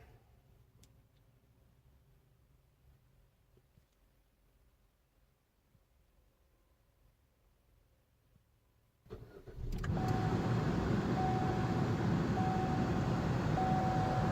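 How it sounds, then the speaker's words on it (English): A 2018 Chevy Trax engine cranks and catches after near silence, then settles into a loud, steady idle close by with a faint high tone riding over it. "now we'll see whether it will start the car"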